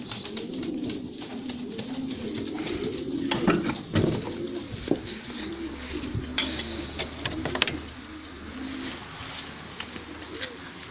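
Racing pigeons coo softly and continuously in a low, rolling murmur, with occasional clicks and flutters nearby.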